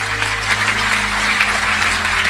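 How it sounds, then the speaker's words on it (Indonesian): A church congregation claps at a sermon, a dense, loud wash of many hands that holds steady across the brief stretch over a low hum. "Yang setuju berikan tepuk tangan yang meriah"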